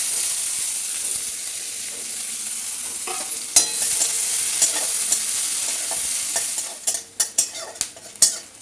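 Chopped onions hit hot oil with a bright, steady sizzle and hiss, then stirring adds a cluster of sharp utensil clinks against the pan toward the end.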